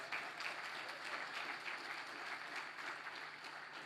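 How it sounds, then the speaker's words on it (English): Audience applause at a public sector corporate governance awards ceremony: a continuous, even wash of many hands clapping, fairly faint and steady throughout. "Give them a round of applause."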